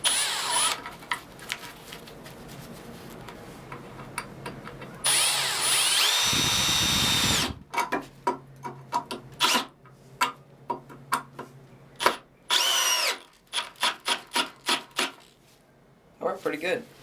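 A Milwaukee 12V drill in drill mode bores a 5/8 spade bit through a 2x4, a sustained loud whirring run in the middle, then a string of short, sharp trigger bursts and clicks.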